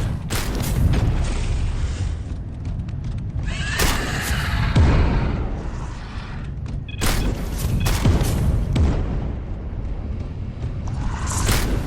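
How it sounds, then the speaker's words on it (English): Repeated heavy booms and blasts of exploding barrels in Space Hulk: Deathwing on PS4 erupt in bursts over a continuous rumbling din, one after another. "Barrels in this game do have a tendency to explode"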